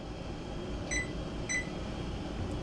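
Two short electronic beeps from a kitchen timer being set for two minutes, spaced about half a second apart, heard over a steady hum from a pot of old dry beans at a rolling boil on the stove.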